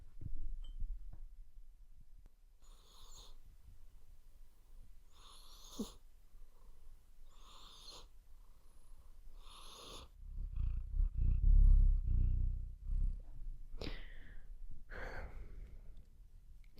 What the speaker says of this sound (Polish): Chcecie usłyszeć, jak kot chrapie?